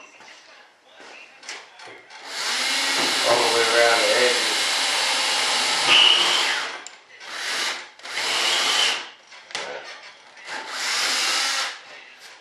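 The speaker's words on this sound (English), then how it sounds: "I'll go ahead and drill a hole" A power drill whirs in several bursts while drilling a hole in an RC jet B-1 bomber model, one long run and then shorter spurts, close by. Someone talks briefly between the bursts.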